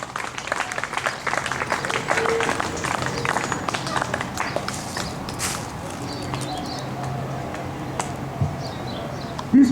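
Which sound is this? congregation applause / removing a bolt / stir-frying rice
congregation applause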